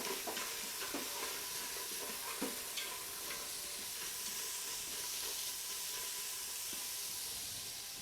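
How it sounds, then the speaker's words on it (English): Onion, celery and carrot sauté in a pan with a soft, continuous sizzle and hiss, broken by occasional stirring scrapes; the sound is fairly faint and there is no speech. "And I'm gonna saute this for about 10 minutes"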